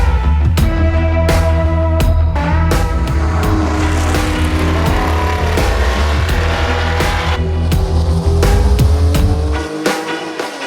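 A car drives past with a loud, continuous engine roar carrying steady low harmonics and a few sharp transients, then fades slightly near the end. The setting is hard driving of a Porsche 911 R barn find.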